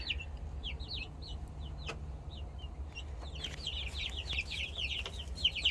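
A flock of chickens and roosters, around eleven birds, cluck and chatter in a yard. Rapid overlapping calls grow busier toward the end over a low rumbling background, at moderate distance.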